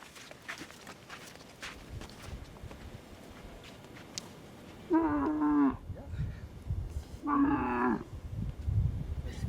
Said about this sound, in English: The camel protests.